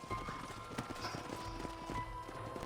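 Steady clip-clop of horse hooves trotting at a moderate pace in the video game Red Dead Redemption, fairly quiet, with faint background ambience.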